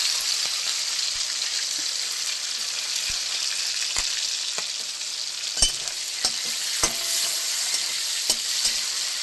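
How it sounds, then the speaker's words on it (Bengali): Tomato and green chilies hiss loudly in oil with nigella seeds, a dense, continuous sizzle dotted with sharp pops and spatters. "তেলের মধ্যে তো কালো জিরে আগেই দেওয়া ছিল, এবার দিয়ে দিলাম আমি টমেটো, আর দিয়ে দিলাম আমি একে একে কাঁচা লঙ্কা"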